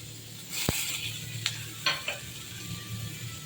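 Tomatoes go into hot oil for a chickpea gravy and start to sizzle, with a sharp clink of a utensil against the pan and a few scraping stirs. The frying hiss holds steady and fairly soft under the stirring.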